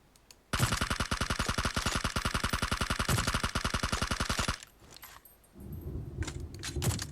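Rapid automatic gunfire in PUBG Mobile, a long sustained burst of evenly spaced shots lasting about four seconds, loud and close, followed by quieter rumbling game ambience.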